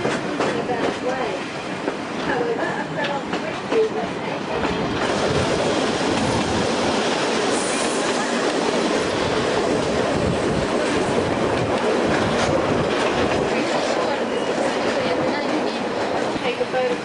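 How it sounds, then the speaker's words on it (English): A first-class carriage on the Kuranda Railway near Cairns, Australia, clatters steadily along the tracks with continuous rhythmic clicks and rumbling, a faint squeal partway through, and a voice occasionally speaking over it. "Take a photograph of the locomotive crossing the third bridge with the falls in the background."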